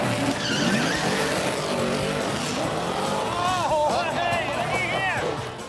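A car in a race revs its engine hard, with rising and falling whines and squealing tires over a busy roar, while people talk over the noise.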